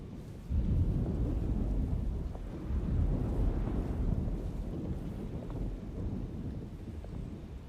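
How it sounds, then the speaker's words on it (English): Deep rolling thunder from a storm in the 2024 video game Alone in the Dark, a sustained low rumble with wind and rain-like noise that stays steady and fairly loud throughout, with no voices. "Looks like a storm's coming."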